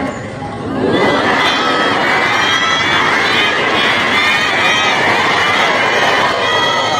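A church congregation at an outdoor revival in West Sulawesi bursts into loud, sustained shouting and cheering together, a dense crowd roar that holds steady for several seconds.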